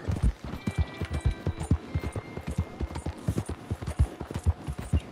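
Hooves of a horse in Red Dead Redemption 2 clip-clop steadily and close by, a quick regular trotting rhythm of many strikes with no voices.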